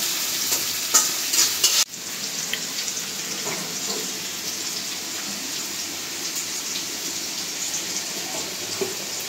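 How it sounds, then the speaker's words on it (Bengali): Onions frying to a deep reddish brown in a pan, a steady close sizzle with the scrape of stirring and one sharp clack of the utensil, no talking. "পেঁয়াজটা একদম লাল লাল করে ভেজে নিব"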